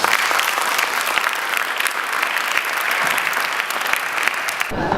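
A loud, dense round of applause for the teams that took part in the event, continuous and close for several seconds before cutting off abruptly.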